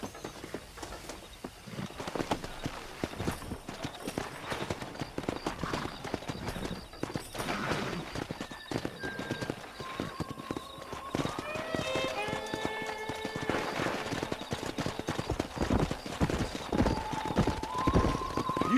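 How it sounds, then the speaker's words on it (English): Horses on a ranch in Red Dead Redemption trot with a steady clip-clop of hooves throughout, joined by whinnies partway through, set against outdoor ambience and occasional speech. "Let's see if we can't wrangle some horses."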